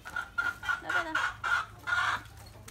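Chickens cluck repeatedly on a farm at feeding time, a close, loud series of rhythmic clucks and short squawks with no talking.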